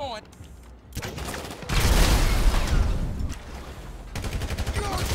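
Gunfire in Grand Theft Auto V comes in rattling bursts, including a dense, loud volley in the middle and quicker rapid shots near the end, with a voice briefly heard.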